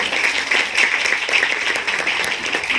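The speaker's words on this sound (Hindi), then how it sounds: "इसलिए मैं कहूँगी उनके लिए भी एक बार जोरदार ताली" Hearty applause from an assembled audience at a school or institutional event, an even, sustained patter of many hands clapping at moderate distance.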